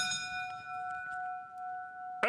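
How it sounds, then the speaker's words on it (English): A boxing ring bell at a heavyweight bout gives a single faint clang whose tone rings on and fades over about two seconds. A brief knock follows at the end. "at the sound of the bell"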